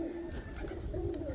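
Pigeons coo and murmur steadily in a pigeon loft in Puerto Rico, soft rolling low calls overlapping close by with no talk.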